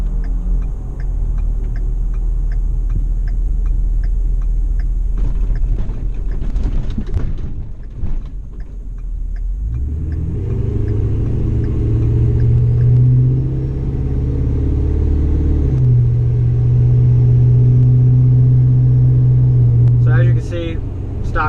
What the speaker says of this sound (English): I'm gonna try to hit these little potholes off to the right that I hit when I was just getting a clip of the suspension.